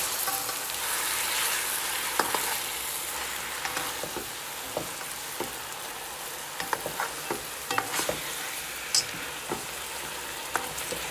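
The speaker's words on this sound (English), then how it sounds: "all I'm doing is stirring the pot and making sure that all of the turkey is evenly coated in the brown sugar" Seasoned turkey wings are stirred in a pot with brown sugar, producing a constant sizzle with repeated scraping and clinking spoon strokes that grow busier toward the end.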